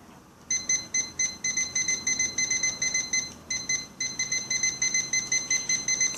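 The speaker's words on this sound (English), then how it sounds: "Let's set our timer here, Bubba." A timer beeps in rapid repeating bursts of bright electronic tones, loud and close, with a brief gap in the middle, set during a sports talk show taping at an insurance office.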